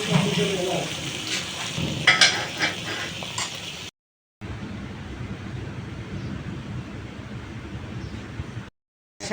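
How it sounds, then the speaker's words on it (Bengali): Dried fish (shutki) fries in oil in a wok, a close, crackling sizzle with occasional scraping clatter, cut twice by brief complete silences. "সুটকিটা ভেজে নিচ্ছি"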